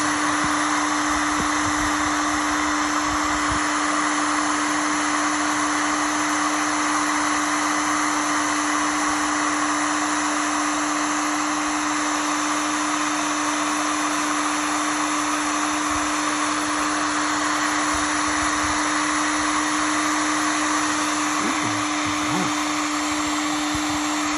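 A Seekone 1800 W heat gun blows a continuous, loud airy whoosh with a steady motor hum while shrinking double-wall marine-grade heat shrink tubing, running unbroken from start to finish.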